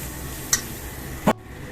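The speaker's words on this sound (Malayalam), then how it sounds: "ഇനി അതേ കടായിൽ നമുക്ക് തേങ്ങ വറക്കാം" Grated coconut, coriander seeds and dried red chillies being dry-roasted in a kadai for Kerala theeyal give a steady soft hiss, broken by two brief sharp stirring clicks against the pan, close by and without speech.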